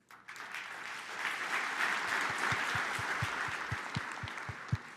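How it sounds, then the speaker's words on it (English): Light, polite golf claps from a small tech-event audience: soft, sparse individual claps spread over a quiet room tone, fairly distant and restrained. "Yeah, golf claps."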